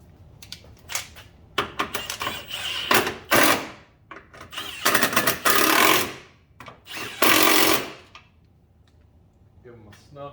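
A power tool snugs down the three nuts on a rear shock of a 2016 Cadillac ATS, firing in short bursts of rattling impacts separated by pauses, close and loud.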